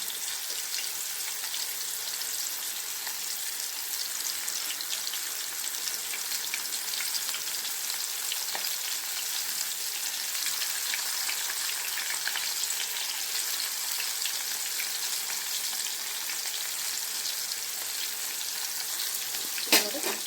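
Paneer frying in hot oil gives a continuous bright sizzle and crackle that stays even throughout, with a faint clink near the end.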